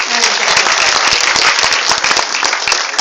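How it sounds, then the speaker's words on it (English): An audience at an open house claps loudly and continuously, a dense crowd of hands close by with sharp individual claps standing out. "The others can clap, it's okay if you didn't get it."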